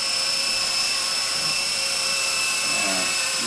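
E-Flite 120 SR small RC helicopter hovering indoors gives a steady, high-pitched electric motor whine with a constant rotor buzz, close and continuous.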